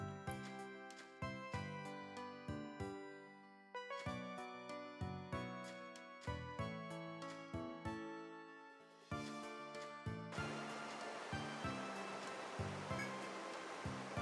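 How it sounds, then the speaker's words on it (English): A waterfall in the dungeon-crawler video game Etrian Odyssey III: melodic game music with plucked notes plays throughout, then a steady broadband rush of falling water swells in under it for the final few seconds. "You gaze upon the waterfall in cool breeze."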